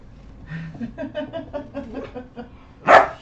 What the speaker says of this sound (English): One of these dogs needs to go out